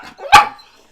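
A female pet dog lets out one sharp, loud bark close by, followed by silence.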